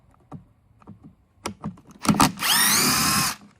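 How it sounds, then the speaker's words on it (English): Power drill backing screws out of an electric lawn mower: a few close clicks and taps, then a loud sustained motor whir rising in pitch for about a second. "What I'm going to do now is go ahead and undo these 3 screws"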